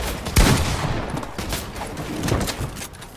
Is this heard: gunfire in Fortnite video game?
yes